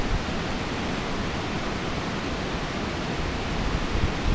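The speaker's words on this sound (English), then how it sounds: "as you can kind of see and hear, it is really windy" Strong wind roars steadily over farmland as a dense, unbroken rush of noise that stays loud and near throughout, swelling slightly at the end.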